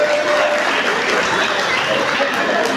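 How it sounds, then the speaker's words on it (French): Audience applause at a Fête de la musique concert, dense sustained clapping filling the room evenly throughout. "Applaudissements s'il vous plaît."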